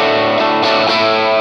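A loud electric guitar through a Greenchild Tribus Drive overdrive chugs a brief chunky rhythm with a couple of strummed accents, then cuts off abruptly.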